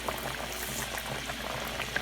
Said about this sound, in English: So the oil has got nicely hot right now. So I'm dropping our breads.